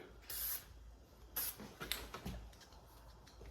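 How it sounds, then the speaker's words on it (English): Dielectric grease sprayed from an aerosol can onto a truck wiring connector during flatbed wiring work: two short hissing bursts, fairly close, followed by faint handling clicks, with no talk. "I'm gonna spray some dielectric on it."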